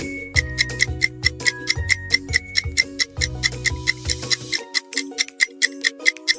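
A clock ticks in a steady, even rhythm, each crisp tick close and clear, layered over soft sustained musical tones that fall away near the end. No one speaks.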